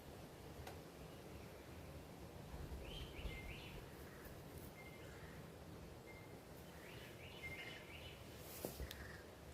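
Outdoors at dawn, small birds chirp in scattered bursts of faint, high-pitched calls at a distance over a steady background hiss.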